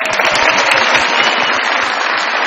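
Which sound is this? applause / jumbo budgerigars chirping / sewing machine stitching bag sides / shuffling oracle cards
applause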